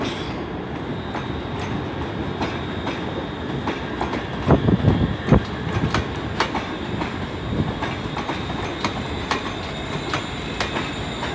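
A ScotRail Class 380 electric train pulls out of Glasgow Central station, a steady rumble of wheels and traction with rhythmic rail clacks and a few louder knocks, close and continuous with no voices.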